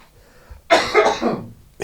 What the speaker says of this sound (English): I have to do a huge cough.